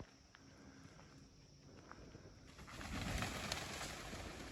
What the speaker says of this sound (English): And there's all these birds up here.